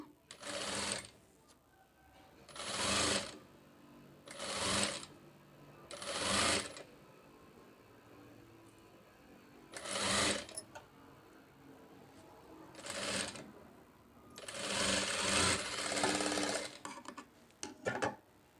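Sewing machine stitching a katori blouse, run in about nine short bursts of rapid stitching separated by quiet pauses.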